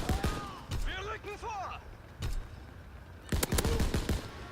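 Machine gun fire from an emplacement in the World War II shooter game Call of Duty WWII rings out in short, scattered bursts, with someone talking between them.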